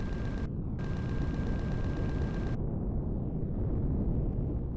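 Rapid automatic weapon fire in the space survival game Empyrion Galactic Survival (Reforged Eden), a dense, steady stream of shots for about two and a half seconds, then a low rumbling ambience with no talking.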